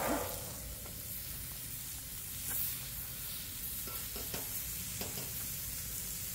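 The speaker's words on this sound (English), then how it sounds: "we're just going to give those steaks just a little toss, just enough to get them a little bit of caramelization on it" Steak bites sizzle on a Blackstone griddle. A steady hiss runs throughout, with a louder burst at the start as the meat is tossed and small scrapes and pops after it, close and without speech.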